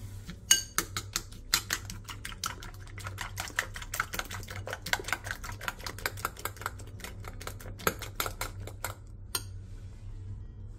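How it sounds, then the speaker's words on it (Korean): Carrot, green onion, two eggs, a pinch of salt and minced garlic are stirred together in a bowl, a fast, steady run of light clicking taps close by that stops near the end. "볼에 당근과 대파, 계란 2개, 소금 1꼬집, 다진 마늘 2분의 1티스푼을 넣고 골고루 섞어주세요"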